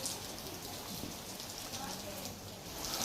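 Rain falls on a rural area of Navsari during a showery spell, a soft, even patter and hiss of drops on surfaces, faint and continuous, without voices.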